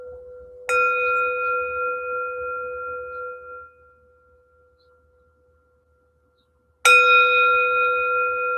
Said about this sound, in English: what I turned off is what makes the bell sound good